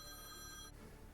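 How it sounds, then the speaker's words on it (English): A telephone rings faintly in the background with a single electronic ring tone that cuts off after under a second. No one speaks. "apologies for the phone ringing in the background there"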